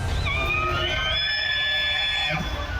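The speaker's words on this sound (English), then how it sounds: "That is the sound of an elk bugling as he wades through water in western North Carolina." Bull elk bugling in the fall while wading through water in western North Carolina: a rising, whistling high-pitched call with warbling harmonics lasting a couple of seconds, heard over steady low background rumble.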